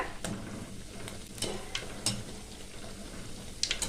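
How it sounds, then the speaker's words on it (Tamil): Layered crispy sweet frying in oil over a low flame while being turned, a steady close sizzle with a few sharp spatters and utensil clicks scattered through. "அடுப்பை மட்டும் சிம்லேயே வச்சு நல்லா பொறிச்சு எடுத்துக்கலாங்க"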